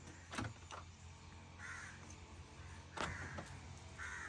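A Perodua car's door locks actuate remotely from a smart key fob: two faint, sharp mechanical clunks a few seconds apart, heard quietly outdoors with soft background noise and a distant crow cawing.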